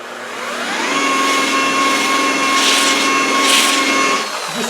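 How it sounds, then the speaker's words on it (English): An electric polishing buffer blends compound into car paint on the air intake of a Land Rover Defender 110, spinning up to a loud steady whine that holds close by before tapering slightly at the end, with no talking. "So the last job is use your buffer"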